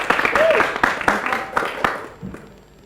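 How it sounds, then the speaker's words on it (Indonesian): An audience at a cultural event gives a short burst of clapping, fairly close, that fades out after about two seconds, with a voice talking over the start. "Tepuk tangan untuk Gemilang."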